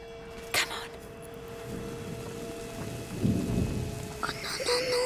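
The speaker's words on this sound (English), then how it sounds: "I love the rain." Rain falling steadily with rolling thunder in A Plague Tale: Innocence, a loud crack near the start and low rumbling building later, ending with game character voices.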